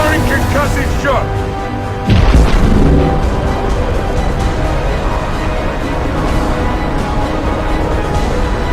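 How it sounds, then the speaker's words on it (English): A concussive shot fired in Mass Effect 2 lands as one loud, thudding boom early on, then fades into dense combat music and game noise as voices speak. "Firing concussive shot!"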